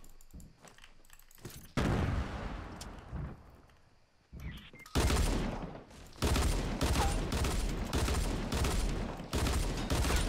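Rapid gunfire in the Fortnite Battle Royale video game, bursts of shots crackling in dense, loud volleys with brief pauses between them, no talking over it.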